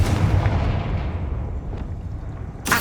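A Confringo fire spell blasts in Hogwarts Legacy, a dense roaring burst with a rumbling low end that gradually fades, followed by a sharp new crack near the end.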